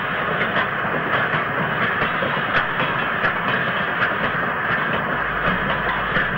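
A BR Standard Class 4 steam locomotive hauling empty ash wagons toward Coleham Shed in 1967, rolling past with steady hissing and a rhythmic clickety-clack of wheels on rail joints, loud and continuous throughout.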